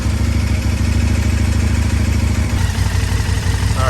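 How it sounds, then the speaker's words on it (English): A KTM 1290 motorcycle engine idles close by with a steady, fast, even rumble and slight mechanical clatter, holding constant throughout with no revving. "Let it idle till the oil warms up, and I'll do an oil change on it."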